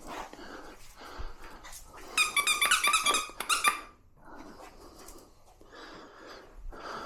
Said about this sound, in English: Joys of a new puppy.